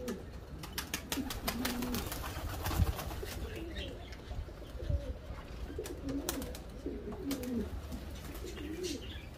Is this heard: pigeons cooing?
yes